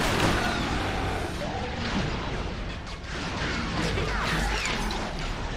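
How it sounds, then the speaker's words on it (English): Enemy gunfire in the shooter game Resistance: Fall of Man forms a dense, constant barrage of shots, crashes and booms, loud and close, with no clear gaps across the whole stretch. "They're legitimately all shooting at me."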